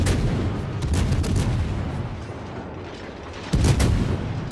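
Cruiser guns fire in a naval battle game, a few sharp blasts over a rumbling background, with a louder salvo near the end.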